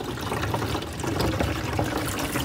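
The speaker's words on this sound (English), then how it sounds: "And we've already got water pouring out." Water splashing and pouring steadily out of a leaky Pyranha kayak, a continuous broadband gush close by with no talking.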